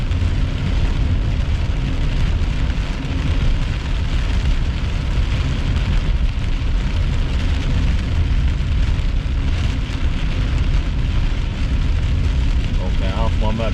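Heavy rain pours down during a storm chase in a steady, dense hiss, loud and constant throughout, with a faint voice near the end.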